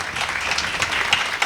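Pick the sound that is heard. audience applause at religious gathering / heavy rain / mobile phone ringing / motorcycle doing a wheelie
audience applause at religious gathering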